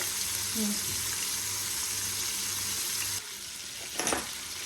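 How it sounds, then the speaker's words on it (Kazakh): Fish frying in oil in a pan, a steady close hiss of sizzling that drops briefly, then a short burst of louder crackle as the pan is handled. "Міне осылай қуырып жатырмыз."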